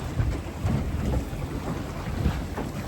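A boat engine idles at about 1,000 revs while the craft barely makes headway against a strong current off a headland, giving a steady low rumble with wind buffeting the microphone throughout.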